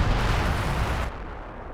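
Artillery strike in the real-time strategy game Company of Heroes 2, a dense, loud rumbling blast that fills the first second and then drops to a quieter low-pitched rumble as it fades.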